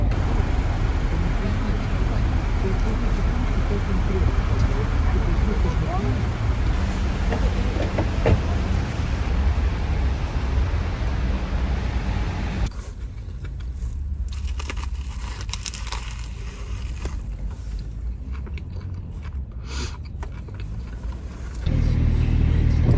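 Cars and buses crawl through a jammed city-centre street during a power outage, making a constant rumbling traffic drone. Partway through, the sound turns duller and quieter before loudening again near the end.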